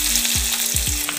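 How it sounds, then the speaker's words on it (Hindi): Chopped onions hit hot oil already holding bay leaves, dried red chillies and cumin seeds, setting off a loud, continuous close-up sizzle broken by a few soft stirring scrapes, with no speech. "अब 2 कटा हुआ प्याज डाल देंगे"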